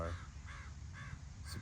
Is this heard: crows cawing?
yes